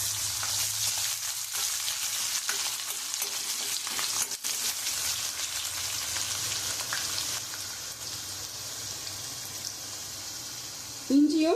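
Chana dal and garlic fry in hot oil for a South Indian poori masala, giving a dense, continuous sizzle with occasional stirring scrapes, close and loud from start to finish.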